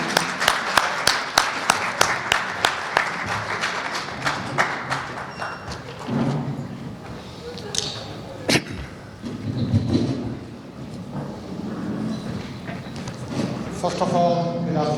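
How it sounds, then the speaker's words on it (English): An audience claps at a community stage event as a guest speaker is invited up, bursts of clapping at first, then loosening into scattered claps and thumps with murmured talk and movement as the applause dies away. "a huge round of applause"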